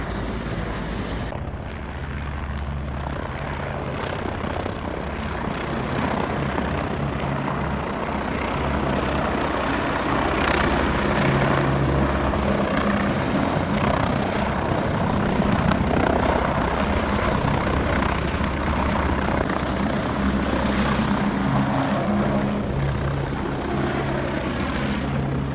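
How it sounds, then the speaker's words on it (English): Helicopter flying near Everest Base Camp on the Himalayan trek, a continuous loud rotor and engine roar that swells slightly toward the middle, close by and without talk. "So the helicopter just dropped off a couple monks with their suitcases."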